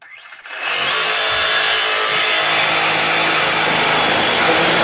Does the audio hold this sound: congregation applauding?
no